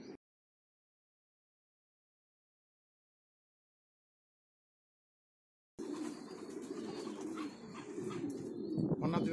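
Racing pigeons cooing in a loft, heard only after several seconds of silence, then a continuous close murmur of soft coos with faint chirps and rustling.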